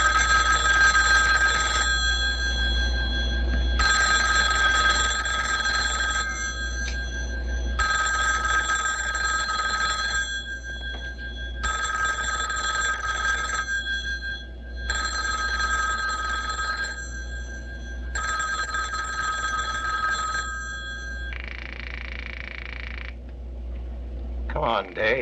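A telephone bell rings in repeated long bursts with short gaps between them, loud and close, ending in a shorter final ring.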